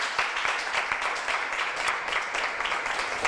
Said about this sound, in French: Encore des applaudissements pour elle.